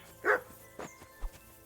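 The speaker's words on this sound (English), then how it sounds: "I assume you can hear that damn dog of yours barking" A dog in a video game lets out one sharp, distinct bark, then a few softer, quicker yips, all fairly quiet and close, with no talking.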